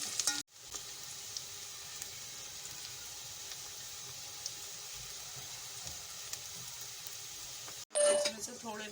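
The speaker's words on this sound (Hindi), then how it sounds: "और अब मैं इसमें प्याज गोल्डन ब्राउन करूँगी" Onions fry to golden brown in ghee in a pot, producing a steady, even hiss that cuts out briefly at the start and near the end, closing with a metallic clang.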